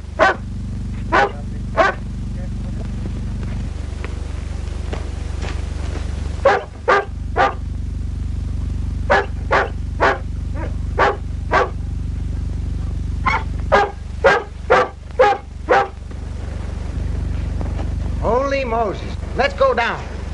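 A dog barks at night after rain, sharp and fairly close, in clustered runs of barks separated by pauses, over a steady low hum from an old 1938 film soundtrack.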